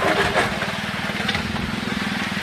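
A gasoline power trowel runs steadily while finishing a stretch of partly dried concrete slab, giving a close, continuous engine drone with a rapid low chugging pulse and no pauses.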